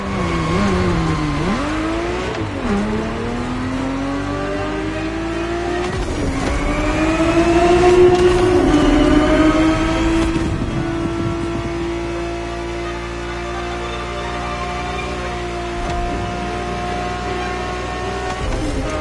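A Ferrari 365 GTB4 engine revs loudly up close, its note climbing and dropping through several pulls before settling into a steady, sustained drone, with no voices.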